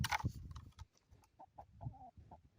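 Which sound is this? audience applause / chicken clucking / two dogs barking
chicken clucking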